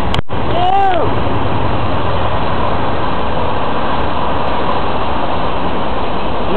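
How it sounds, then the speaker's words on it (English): A train rolls past nearby, a loud steady rumble and rush of wheels filling the scene after a brief squeal at the start. "Oh my god, it's a train!"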